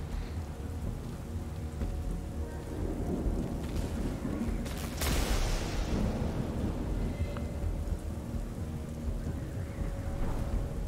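Steady rain pours down in the video game Strayed Lights, a constant hiss of drops with rumbling thunder rolling through, one louder crack swelling about midway before the downpour carries on.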